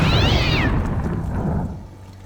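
A cat meows in the video game Deus Ex, one drawn-out, wavering cry heard close and fairly loud over low game background noise, then fading.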